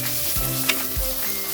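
Ground turmeric, Kashmiri chilli powder and coriander powder sizzle in a pan for mushroom curry, a close hissing fry broken by a couple of scraping stirs and a brief spatter.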